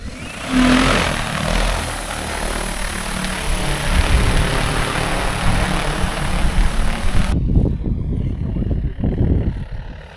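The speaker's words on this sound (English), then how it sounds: "It's just uploading the route and then it'll beep and the drone will take off." An agricultural spray drone taking off over a small field gives a loud, steady whirring drone of spinning rotors throughout, with rumbling wind buffeting in the closing seconds.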